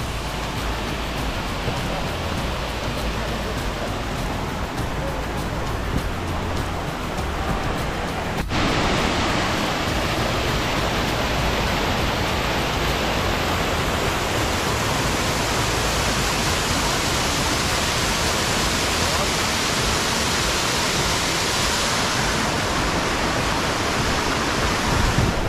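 Waterfalls on the Kozica river in the Vranica mountains roar as a loud, steady wash of falling water, close and unbroken throughout, with no other sounds standing out.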